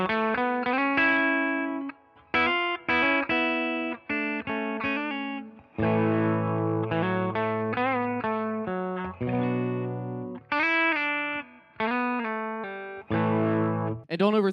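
Distorted electric guitar, a Gibson Les Paul through a Fender Tone Master Pro amp modeler, strummed chords and riffs in short bursts with brief pauses between phrases, loud and close.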